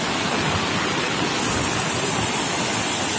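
Floodwater rushing down a rising mountain stream during heavy rain in northwest Vietnam: a loud, dense, unbroken roar of churning water, close and steady throughout with no voices.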